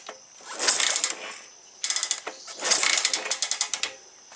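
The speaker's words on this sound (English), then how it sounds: "the motor does crank over, as you can see" The engine of a 1975 Honda CB360E motorcycle is turned over by hand or kick with no battery, giving two bursts of fast mechanical clicking and ratcheting, close and without ignition.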